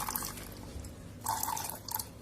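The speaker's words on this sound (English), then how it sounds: "Now take another tumbler and pour the clear water into it." Clear water is poured from one tumbler into another during a simple home science demonstration of sedimentation, with soft splashing and trickling bursts over faint background hiss.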